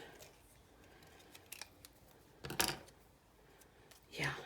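Scissors trim paper for card making in a quiet room, giving a few short, crisp snips and a final longer cut close by.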